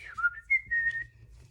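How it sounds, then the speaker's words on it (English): A person whistles a short, gliding melodic phrase of a few notes, close and clear against a quiet background with no talking. "That was a beautiful whistle I just pulled out of myself."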